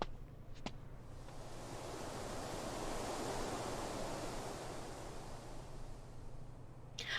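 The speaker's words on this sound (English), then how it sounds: "As I turn to go, a warm, damp breeze blows past me." A warm, damp breeze in the game Spirit Hunter: NG blows as a soft, steady rushing hiss that swells gently and fades, with faint clicks at the start and end.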